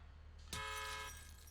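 A single short car-horn honk from a modded car in the video game GTA IV sounds at moderate volume against a faint engine hum, then tails off.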